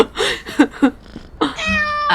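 A cat meows several times in quick succession, loud and close: short cries first, then a longer drawn-out meow with strong ringing tones at the end.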